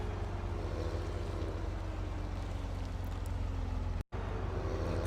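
Tractor engine in Farming Simulator 17, a steady, loud, low droning hum with a faint rising whine, running continuously apart from a brief dropout near the end, with no talk.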